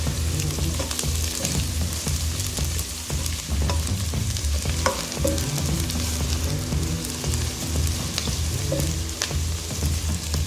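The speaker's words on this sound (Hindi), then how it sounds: "प्याज हमारा लाइट गोल्डन ब्राउन हो रहा है" Onions fry in hot oil in a pan while being stirred for a chicken korma, a steady close sizzle with scraping and clinking strokes throughout.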